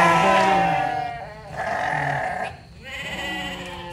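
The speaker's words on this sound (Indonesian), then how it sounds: "Ternyata Mas Hirawan juga pelihara kambing guys. Domba mas" Sheep on a livestock farm in Kebumen, Indonesia, bleat loudly and close by in several wavering calls, one after another, with no talk over them.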